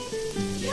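Curry made with mallemoggalu fries in a pan, giving a steady close sizzle with a faint crackle throughout.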